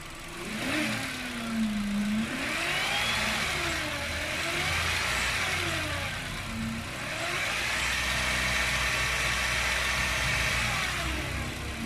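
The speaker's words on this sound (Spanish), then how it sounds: "Vamos a hacer una aceleración pequeña, unos 1500 revoluciones." A car engine is brought to a low rev of about 1500 rpm during coolant sensor fault testing. Its steady mid-pitched hum rises and falls gently over several seconds, and no one speaks.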